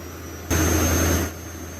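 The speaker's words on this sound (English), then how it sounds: "the engine will stabilize at a speed slightly higher than the idle speed" A Kotech KDP diesel portable air compressor engine runs with a steady hum, then gives a loud broadband roaring burst for under a second before settling back to the same hum.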